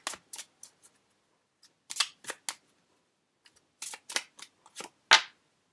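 Oracle cards being shuffled and drawn by hand, close and quiet, a series of short crisp flicks and slaps in irregular clusters separated by brief silences.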